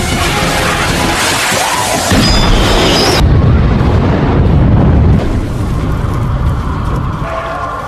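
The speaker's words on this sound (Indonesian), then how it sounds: "si CJ pun berniat menggunakan tabung gas LPG kiloan untuk meledakkan para zombie" In a Dawn of the Dead (2004) zombie film, an LPG gas cylinder blows up with a loud, continuous roaring blast. Heavy rumble and crashing debris fill the scene and never let up.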